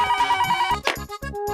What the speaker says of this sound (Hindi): आ गया फोन, आ गया।